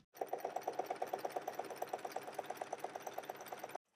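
A sewing machine stitching a ruffle tote bag, running steadily at close range with a fast, even rhythmic chatter that starts and stops abruptly, heard alone without voices.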